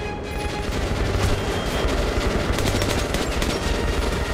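Sustained automatic gunfire in Metro: Last Light, loud and close, a rapid unbroken rattle of shots layered with heavier booms throughout.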